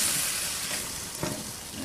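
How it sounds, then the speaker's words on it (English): Gravy being stirred into chicken pot pie filling in a pan on a Big Green Egg grill, with a steady close sizzle and soft scraping stir strokes over about two seconds, no talking. "And just stir that in."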